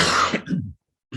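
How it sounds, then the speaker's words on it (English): A man coughs and clears his throat in a short rough burst, then falls silent before a second throaty rasp begins. He is speaking at a meeting on climate change and has a chronic cough. "It's not COVID, it's just my chronic cough when I start talking."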